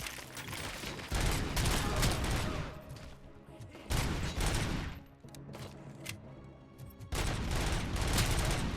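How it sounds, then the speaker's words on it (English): Rapid bursts of gunfire crackle through a firefight in the Robocop: Rogue City video game, grenades shot in midair among them, with loud sustained volleys broken by short lulls. "Oh, you can shoot grenades in midair."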